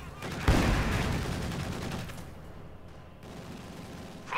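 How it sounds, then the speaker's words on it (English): Infantry gunfire in the video game Company of Heroes 2: a loud burst of rifle and machine-gun fire that trails off into dense, rumbling battle noise, with faint voices partly mixed in. "Infantry firing on our vehicle!"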